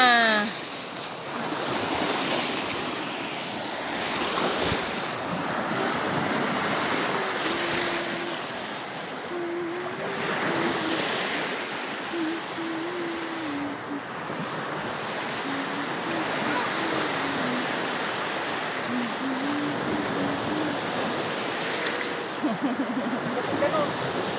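Steady ocean surf washes in a continuous broadband roar, with wind buffeting the microphone and a faint voice murmuring beneath.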